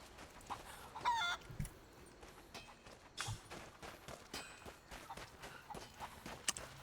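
Chickens cluck in a video game, with several short clucks and scattered footstep-like taps at moderate, fairly quiet level, alone without speech.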